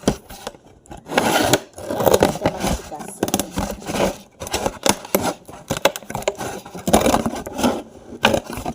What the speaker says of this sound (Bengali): এখন এখান থেকে আমি কাঁচি দিয়ে কেটে নেব।